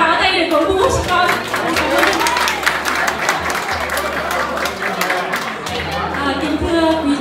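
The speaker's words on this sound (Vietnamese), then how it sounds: "Xin cộng đoàn cho con một tràng pháo tay để cổ vũ cho con" A church congregation applauds at a Vietnamese thanksgiving celebration for a newly ordained priest. The clapping is steady and sustained, with a speaker's voice and music-like tones over it.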